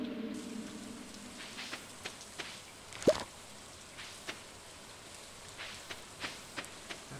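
Rain in the farming game Stardew Valley, a soft steady patter with scattered drip-like taps, quiet and continuous with no talking.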